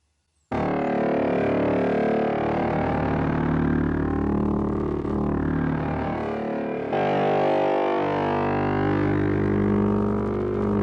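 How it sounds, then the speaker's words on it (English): A deep, rich Korg Volca Modular synthesizer drone holds steadily after a brief silence, dense with harmonics and slowly shifting in tone throughout. "we get this very rich, deep drone sound like this"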